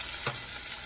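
Onion and green chilli frying in hot oil for biryani give a steady close sizzle, with one brief stir or clack partway through and no talking.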